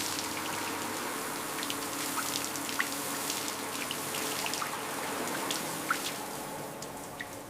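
Water pattering and dripping across the bodywork of a neglected 1957 Jaguar XK150 with oxidized, scratched factory red paint, a steady close rinse with scattered drops landing, no voices.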